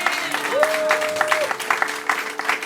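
A church congregation cheers and applauds for the pastor: dense, steady clapping with crowd voices throughout, loud and close, while a sustained tone hums underneath.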